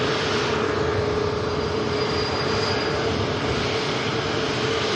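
An aircraft on the active departure runway at Manchester Airport, with a steady, loud engine roar and a constant whine running through the whole stretch and no voices.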